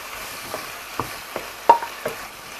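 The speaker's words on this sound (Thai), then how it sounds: "ผัดคลุกเคล้าให้เข้ากันค่ะ รอให้ปลาหมึกสุกแล้วเราก็ มาปรุงรสชาติชิมรสชาติกันนะคะ" Squid stir-fries with chili paste in a pan: a low sizzle runs beneath several distinct spatula scrapes and taps, a handful spread over a few seconds.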